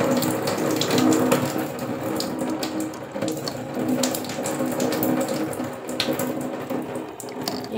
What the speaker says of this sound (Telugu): నేనైతే ఇప్పుడు వాటర్ అనేది ఫిల్అప్ చేస్తున్నాను.